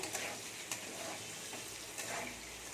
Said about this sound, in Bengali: আলুগুলো একটু ভাজতে হবে, এখনো বাকি আছে।